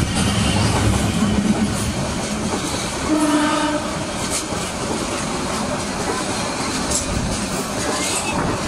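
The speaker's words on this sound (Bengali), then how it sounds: "গাইস এখন একটা ট্রেন আসতেছে খুব জোরে, এই যে দেখুন ক্রসিং এ পড়ছে আমাদের ট্রেন" A fast train passes a railway crossing in Bangladesh, a loud rushing rumble with rhythmic wheel clatter and horn tones early on, heard up close from another train.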